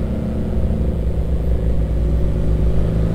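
A new Yamaha XJ6 motorcycle's engine drones steadily while being ridden, a continuous close hum with faint shifts in pitch and no breaks.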